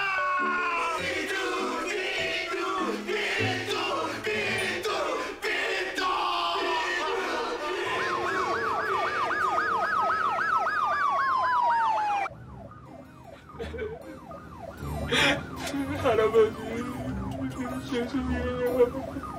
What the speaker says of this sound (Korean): 구급차!